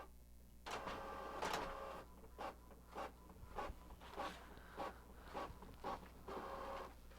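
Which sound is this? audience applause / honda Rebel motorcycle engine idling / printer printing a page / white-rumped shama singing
printer printing a page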